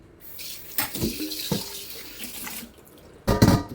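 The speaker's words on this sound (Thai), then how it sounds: "ก็เดี๋ยวมาล้างน้ำแม่เหล็กกันนะคะ" Water runs from a magnetic water pipe for washing, a steady splashing rush with a few louder bursts and a stronger gush near the end, close by and with no talking.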